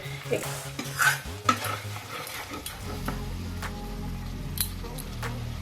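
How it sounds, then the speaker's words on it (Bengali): Diced onions dropped into hot spiced oil for chicken karahi, a steady close sizzle with clattering spoon strokes against the pan, busier at first and then a continuous fry with occasional scrapes. "এই সময় আমি দিয়ে দেবো এই ডুমো ডুমো করে কেটে রাখা পেঁয়াজগুলো।"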